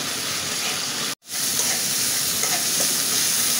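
Spice paste with salt frying in a pan for a spinach and snakehead fish curry, a loud continuous sizzle with stirring, cut by a brief dropout of silence near the start before the hiss resumes.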